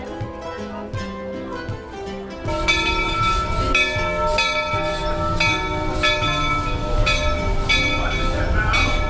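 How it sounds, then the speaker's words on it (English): Inside a moving train at Frontierland in a theme park, wheels rumble steadily while bells ring out in a repeating pattern, growing louder after a quieter start. "I'm going to hop on the train here in Frontierland"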